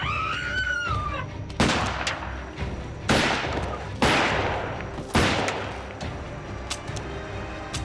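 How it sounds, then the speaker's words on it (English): A handgun fired repeatedly out a car window: about five or six sharp, loud shots at roughly one-second intervals, each followed by a short ringing decay. "She sat up and pointed the gun out the window and fired and kept firing."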